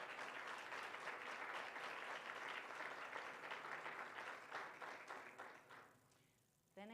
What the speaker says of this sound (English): So another warm round of applause.